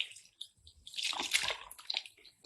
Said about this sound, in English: We'll flush the main line for about 30 seconds to a minute.